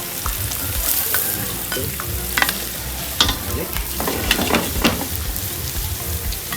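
Onions and garlic sauté in a pan for pinakbet, a close, continuous sizzle broken by frequent scraping and clinking stirs, steady and fairly loud with no talk.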